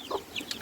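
Cream Legbar chicks raised under a Barbary hen, soft clucking and peeping in a few quick bursts, close and moderately loud with no talk.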